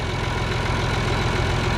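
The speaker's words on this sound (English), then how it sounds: "That's a nice way to get some hours on the engine before we start working it." A farm tractor engine idling steadily at close range, a low even rumble with a faint knocking pulse, brief and alone without any voices.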